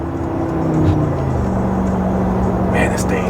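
A Mercedes-AMG G63 G-Wagon engine hums and drones steadily from inside the cabin while driving, a loud continuous low rumble with faint wind noise and a brief louder swell near the end.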